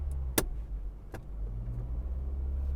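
Car creeping forward at a petrol station pump, a steady low engine rumble with a couple of brief clicks or knocks near the start, no talking.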